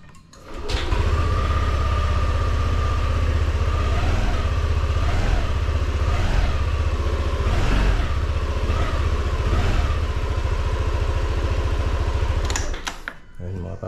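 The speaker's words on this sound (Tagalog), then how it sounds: "konting galaw ko lang ng throttle niya, nagre-response na agad" A Yamaha Aerox 155 scooter engine idles close by and is revved with small throttle blips, a loud sustained buzz with several quick rises in pitch before it cuts off.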